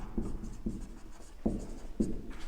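Chalk or marker writing on a board during a biology lecture: four scratchy strokes in a steady rhythm, each a short rasping burst, close and moderately loud with no talk over them.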